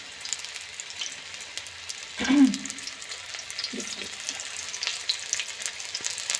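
Chicken tempura fries in hot oil over a medium-low flame, a soft, steady sizzle with a brief louder splash or stir midway, fairly quiet overall.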